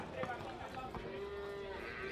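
Cattle lowing at one of the largest livestock markets near Buenos Aires, several faint moos rising over a diffuse background din of the crowded pens.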